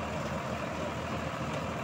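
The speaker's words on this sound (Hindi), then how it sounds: "2200 RPM ट्रैक्टर चल रहा है" A Farmtrac 65 EPI tractor runs at about 2200 RPM driving a Shaktiman rotavator, its engine a steady, loud, close diesel drone with no break.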